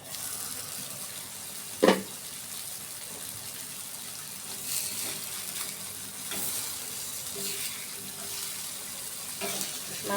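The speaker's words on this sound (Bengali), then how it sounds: "ততক্ষণে মাছগুলো ভাজা হোক" Loitta fish frying in a pan, a soft continuous sizzle at low level with one brief sharp clink near the start and faint scraping, no talking.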